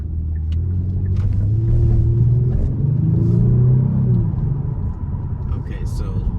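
Kia Stinger with a 3.3 liter twin turbo V6 driving, its engine a steady low rumble that rises and falls in pitch as it pulls, close and continuous throughout.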